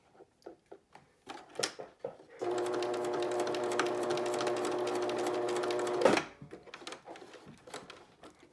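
A sewing machine runs a straight stitch through a handwoven inkle camera strap. It gives one steady, close whir of about three and a half seconds, with quiet handling clicks before and after.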